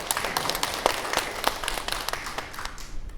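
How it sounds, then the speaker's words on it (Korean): Audience applause during a health lecture on muscles and exercise, a steady burst of many hands clapping at moderate volume, alone without speech. "박수 한번 주세요."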